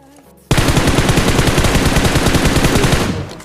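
Automatic gunfire from a shooter video game starts abruptly after a brief quiet moment. It then rattles as a loud, continuous rapid burst for about three seconds before trailing off.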